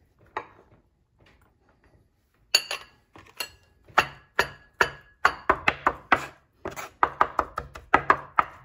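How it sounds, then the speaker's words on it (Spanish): Capers are chopped finely with a knife on a board for tartar sauce: a few sparse taps, then a quickening run of crisp, sharp knife strikes close by, with no talking. "Ahora vamos a picar las alcaparras."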